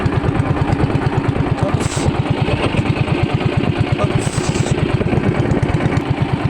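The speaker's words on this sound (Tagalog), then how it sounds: "Papatayin natin ang makina" Boat engine running steadily up close with a fast, even thumping pulse and a rough mechanical drone throughout, loud and unbroken, with no shutdown heard.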